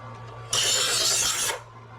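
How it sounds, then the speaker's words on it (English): One long, harsh scrape as a kitchen knife is pulled through a knife sharpener, close and clear, with a low steady hum before and after. "about 20 pulls to initially sharpen the knives"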